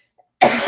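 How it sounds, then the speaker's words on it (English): A single sharp cough bursts out close to the microphone after a brief near-silence, loud and short. "Sorry for the cough."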